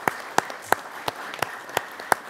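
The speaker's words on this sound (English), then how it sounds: "Let's give him a round of applause." Applause at a county fiscal court meeting honoring Cody, a Kentucky state champion and 4-H state officer: a small crowd clapping softly with a few sharp, evenly spaced loud claps standing out over a diffuse patter.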